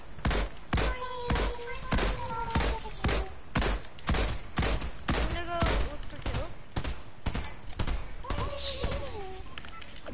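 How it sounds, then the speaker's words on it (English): Rapid gunfire in Fortnite aimed at a supply drop, a long string of sharp, evenly spaced shots ringing out close and loud, with players talking over the shooting. "We're shooting at the supply drop."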